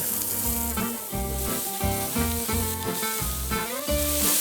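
Small bits of sausage fry in a very hot pan, giving a loud, steady close-up sizzle with a tonal hum running underneath.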